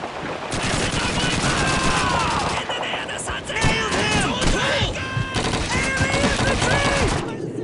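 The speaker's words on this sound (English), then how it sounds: "I hate those machine guns!" Machine gun fire in the World War II shooter Call of Duty 2, rapid dense bursts of gunshots filling the whole stretch at steady loudness, with scattered shouted voices mixed in.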